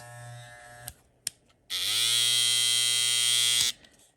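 Cordless Babyliss hair clippers with a lithium-ion battery buzz steadily for about two seconds after a couple of brief clicks, close up and alone.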